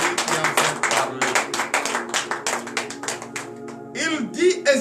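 A church congregation at a morning prayer service in Benin claps with a fast, steady rhythm, close and lively, as voices rise over it near the end.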